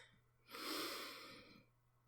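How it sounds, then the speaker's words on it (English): Single slow, deep inhale through the nose during a guided meditation, soft and close, swelling then fading over about a second with no talk. "Take another deep breath in"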